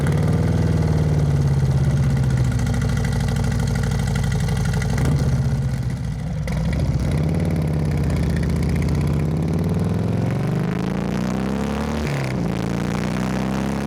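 Steady rumble of a Harley-Davidson Sport Glide engine through a Rinehart exhaust while riding, the pitch rising and falling gently as the throttle changes, close and continuous.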